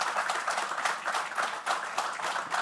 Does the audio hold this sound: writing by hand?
no